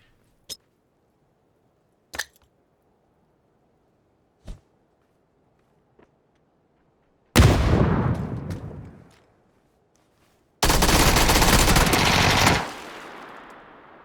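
Gunfire in PUBG: a few sharp isolated shots, then two loud sustained bursts of rapid automatic fire, each trailing off into a ringing decay.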